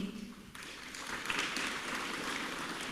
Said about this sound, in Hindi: आपके लिए ताली बजा रहे.